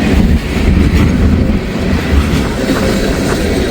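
A train rolls past a railway work zone up close, its loud continuous rumble and clatter of wheels on track filling the whole stretch without letup.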